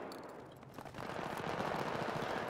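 Battlefield 3 multiplayer gunfire, a faint rattle of distant automatic weapons swelling into a steady stream of shots, with no voices.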